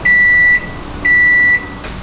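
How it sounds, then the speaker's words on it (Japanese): A kitchen microwave oven heating eggs for tartar sauce gives two loud, steady half-second beeps in a row, with a faint hum between them. "これで電子レンジ"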